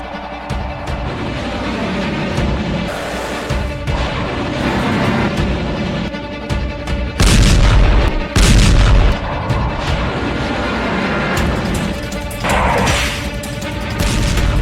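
Explosions from a US airstrike on Houthi positions rumble loud and continuous, with heavy booming blasts standing out near the middle amid dense, roaring low-end noise.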